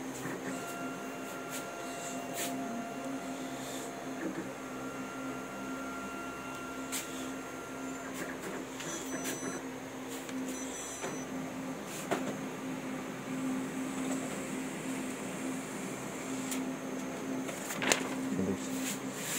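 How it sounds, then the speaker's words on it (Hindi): A Kyocera TASKalfa 1801 copier prints an A4 page, giving a steady mechanical hum and whir with soft clicks and a brief clunk near the end, close and continuous with no talk. "उसके बाद यहाँ से हम फिर से एक प्रिंट मारते हैं।"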